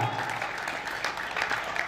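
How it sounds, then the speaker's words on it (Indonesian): An audience at a talk on a Kentongan bamboo percussion arts group applauds in a steady, moderate wash of clapping, with some voices faintly mixed in. "Sekali lagi tepuk tangan yang meriah"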